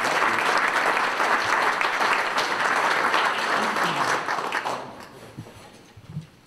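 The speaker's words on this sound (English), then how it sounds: "Please join me in a round of applause to each of you" Audience applause at a service club luncheon, a dense wash of many hands clapping at once, steady and loud for about four and a half seconds before thinning out into a few scattered claps and fading away.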